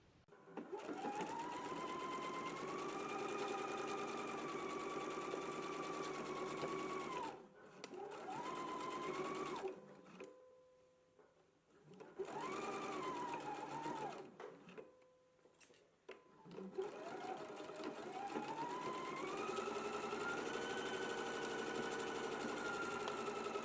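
A sewing machine stitches the side seams of a garment with a steady mechanical whir. The motor speeds up and slows down, stopping briefly a few times between runs.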